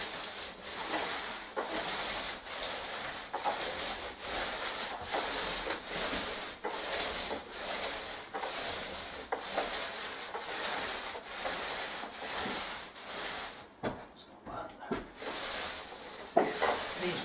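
A paint roller is worked back and forth across a textured ceiling, giving a steady, repeated rubbing and sticky rasp in regular strokes, close and fairly loud, with a short pause near the end.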